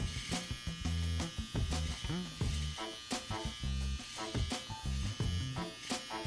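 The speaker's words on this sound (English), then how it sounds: "I'm going to take my trimmer inverted and I'm going to make sure that V-shaped line is really nice and crisp" An electric beard trimmer, held inverted, buzzes in short bursts while crisping a V-shaped beard line, each close, steady hum starting and stopping in an uneven rhythm, with someone speaking between and over the passes.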